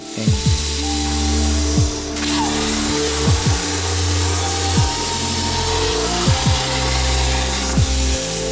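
A power tool cuts metal rear subframe parts for a BMW E30 in a loud, continuous grinding whine, its pitch sliding downward again and again as the blade bites, with no talking.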